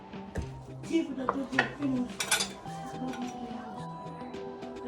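American salad ingredients mixed in a dish with vinaigrette, close scraping and clinking of a utensil against the bowl in irregular strokes, with a voice speaking underneath.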